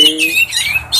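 An oriental magpie-robin (kacer) being sunbathed gives harsh, rasping squawks in quick succession, loud and close.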